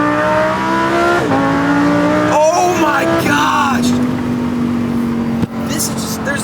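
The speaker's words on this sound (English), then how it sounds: "there's nothing that beats a Lamborghini Huracan's acceleration, the sound, the driving experience" A Lamborghini Huracan engine revs hard, its pitch climbing steadily, then drops sharply through several quick downshifts with crackling blips, loud and close throughout.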